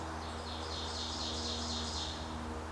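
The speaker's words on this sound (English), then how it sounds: "Birds are singing away." Faint birdsong drifts in from a distance, a quick series of high chirps over a low steady hum in a quiet indoor room.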